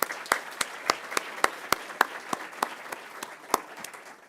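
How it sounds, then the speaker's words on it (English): Scattered applause at a Phi Beta Kappa ceremony at Indiana University, fairly faint, with distinct sharp claps standing out in a loose, uneven rhythm from a modest audience. "So a big round of applause for them."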